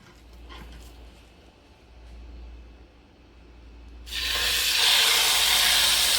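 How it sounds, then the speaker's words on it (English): Meat is dropped into a very hot pan of oil, and a sudden loud, steady searing sizzle bursts in partway through and continues at close range after a quiet stretch of low background hum. "you want to hear that sizzle, you guys. You really want that sizzle to come through. That means the oil is hot and the pan is really hot"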